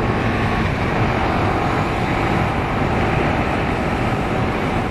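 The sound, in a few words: KTM Super Duke GT motorcycle riding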